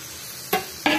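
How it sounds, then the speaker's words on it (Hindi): A spoon stirs potatoes into tomato masala in a pan, giving two quick scraping strokes over a soft, steady background. "अब आलू को अच्छे से मसाले में मिक्स करेंगे।"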